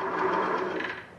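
A sewing machine stitches a knit fabric trim edge for a jersey shirt, a steady close whirring run that holds briefly and then eases off.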